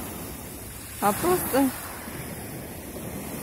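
Large sea waves on a calm, windless day after rain, heard as a steady broad wash of surf with wind noise; a person speaks briefly over it.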